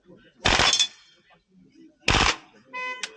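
A Tokyo Marui MP7 HPA airsoft gun fires two short bursts, each a quick cluster of sharp snapping shots, loud and close, separated by a quiet pause and followed by a brief mechanical whine.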